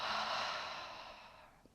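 A long, slow breath out through the mouth during a guided meditation, heard close and alone as a soft airy rush that gradually fades away.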